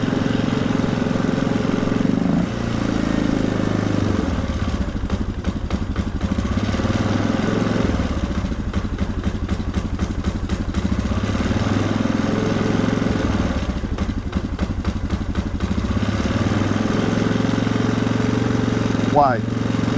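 A 1997 Polaris Sportsman 500 quad engine with a throttle problem runs steadily and loudly throughout, its rough mid-pitched chugging surging and falling unevenly over the whole stretch.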